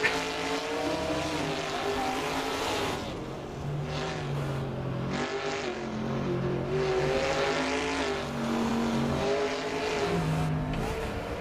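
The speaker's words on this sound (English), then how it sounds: "the noise of the cars around me" Several race cars in the Assetto Corsa racing game, including classic and modern Trans Ams, roar around a track with layered engine notes rising and falling, revving and accelerating continuously, loud and close, with no voices.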